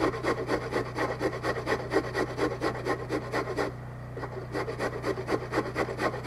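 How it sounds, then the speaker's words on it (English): Carrots rubbed against a grater in steady rhythmic rasping strokes, close and moderately loud, pausing briefly before resuming, with a generator humming steadily underneath during a power outage. "get some carrots grated up here"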